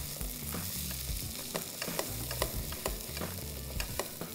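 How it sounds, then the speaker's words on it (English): Red kidney beans stirred into sizzling biryani in a pan, steady frying hiss with repeated scraping strokes of a spoon, close and clear, no talking. "So let's add in the rajma and mix this well."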